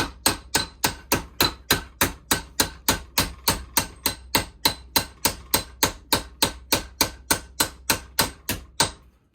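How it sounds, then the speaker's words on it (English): Sheet metal is hammered over a roll for bobber fabrication: a long, steady run of sharp metallic hammer strikes, about three per second, loud and close, with no voices. "I'm rolling it down the roll and then hammering the other side of the roll"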